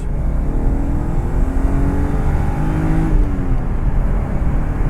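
A car with a BMW S52B32 engine pulls in second gear from around 4,000 rpm, a loud steady engine note that rises smoothly in pitch as it gains revs, with a brief dip near the end, and no talking.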